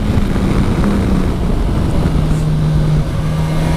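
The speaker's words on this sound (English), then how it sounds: "It's a 4-cylinder engine with all the good and bad of it." A Kawasaki Versys 1000 SE GT four-cylinder motorcycle engine runs as a steady, loud, low drone with a constant tone throughout and no speech.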